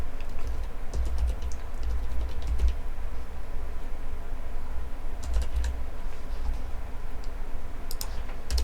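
Steady clicking of a computer keyboard as code is typed during a programming lesson, bursts of fast keystrokes with short pauses over a low room hum, fairly close and moderately loud, no voices.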